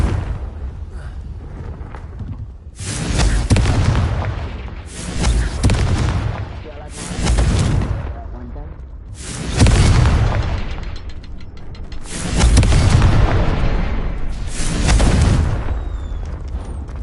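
Repeated Confringo fire-spell explosions in the video game Hogwarts Legacy: six loud, booming roaring blasts, each lasting a second or more, follow one another over a low rumbling background.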